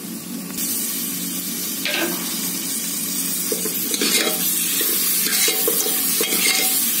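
Chopped onion frying in hot oil with a pinch of turmeric and asafoetida, a loud steady sizzle close by, punctuated by repeated spoon-stirring scrapes against the pan.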